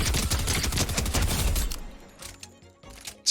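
Combat SMG in Fortnite firing in a rapid automatic burst at an enemy about 50 meters away, loud and dense for under two seconds, then trailing off into quieter distant pops and scattered sharp reports.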